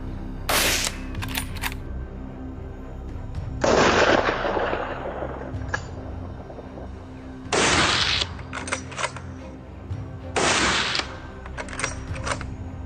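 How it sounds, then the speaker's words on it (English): Volleys of gunfire aimed at fleeing wild boars during a hunt: loud, sharp bursts of rapid shots arrive in separate clusters, with quieter stretches in between. "we aimed and unleashed a deafening volley"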